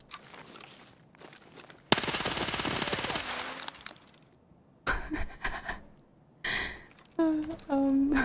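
An automatic gun fires in a video game raid in one long, loud, rattling burst, then later bursts come in short, broken stretches with quiet gaps between them.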